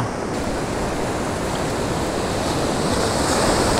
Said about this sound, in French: Je vous filme un peu la plage.